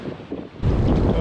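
A big ocean wave surges in around a person wading waist-deep in cold sea water, a sudden loud, close rush and wash following a quieter stretch of wind buffeting the microphone.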